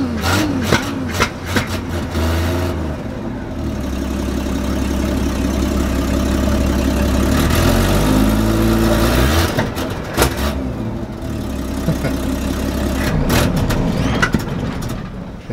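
Car engine running after being started, a loud steady rumble that rises in pitch as it is revved and then settles back toward idle, close by, with no talking.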